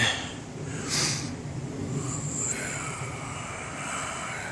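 A jet airplane flies over Seattle, its engine roar a steady, fairly distant broadband rumble that holds across the whole stretch with no voices.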